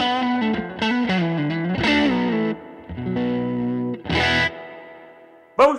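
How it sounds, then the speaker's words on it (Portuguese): Electric guitar through a Fender Tone Master Pro with heavily exaggerated reverb, loud bluesy bends and chords ringing out and swelling in washes, several phrases separated by short decaying gaps, played alone without talk. "Gosto de uma coisa bem exagerada de reverb."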